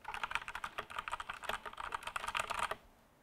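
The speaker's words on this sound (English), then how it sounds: "I could meditate to mechanical keys just typing away." Rapid typing clatters on a 1STPLAYER DK5.0 LITE mechanical gaming keyboard, a close, quick run of crisp keystrokes that stops abruptly near the end.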